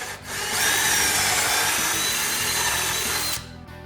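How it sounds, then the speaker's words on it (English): Power drill boring pocket holes into a wood board clamped in a Kreg jig, a steady loud whine that holds for about three seconds before spinning down, with no talking. "I'm going to pull down on that lever again just to secure the piece of wood in the Craig jig, and here we go. I'm drilling my next hole."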